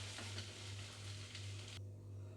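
Plantain slices frying in a pan give a steady, close sizzle with faint stirring scrapes, over a low background hum, and no talking.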